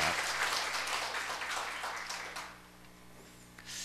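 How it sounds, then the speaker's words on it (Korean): Congregation applause in church after a combined choir's praise song at a New Year's Eve service, a dense round of clapping that gradually fades over a low steady hum. "우리의 격려의 박수 하시기 바랍니다."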